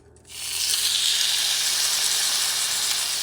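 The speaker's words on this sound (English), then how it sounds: "Let down your steak" Loud, steady sizzling of a chuck eye steak laid into a very hot oiled pan starts abruptly after a brief quiet moment and continues as a dense hiss.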